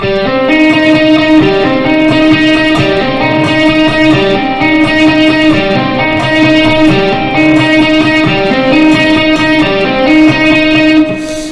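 An electric guitar plays a quick repeating lick, one picked note followed by two hammer-ons, looping steadily and loudly for about eleven seconds with no talking.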